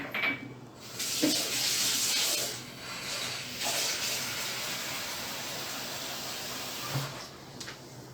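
Cold water from a tap runs in a home kitchen, a steady close splashing stream that starts and swells in bursts and then stops near the end, with a little rubbing and handling.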